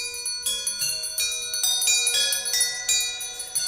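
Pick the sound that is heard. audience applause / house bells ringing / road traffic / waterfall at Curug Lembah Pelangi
house bells ringing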